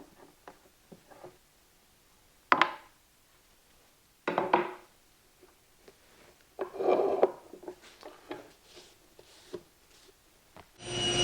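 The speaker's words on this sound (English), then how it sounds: "I'm just going to rub these two back and forth together a little bit," Two wooden boards for a Shaker table being rubbed back and forth against each other, giving quiet, irregular scraping strokes and soft knocks in a quiet workshop, with no voice.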